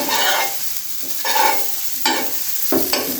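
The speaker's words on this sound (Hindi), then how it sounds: "तो अभी इनको हम फ्राई करते हैं। मक्खन में थोड़ा सा टोस्ट कर लेंगे।" Buttered sandwiches fry on a hot tava griddle, a steady close sizzle broken by several louder scraping bursts as they are shifted and pressed.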